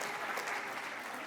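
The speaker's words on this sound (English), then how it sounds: "let's have a big round of applause for them" Audience applause at a school lecture event, a steady dense clapping that fills the whole brief moment at close range.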